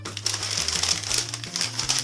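Paper crumples and crinkles continuously at close range, with rustling bursts and a faint steady hum underneath.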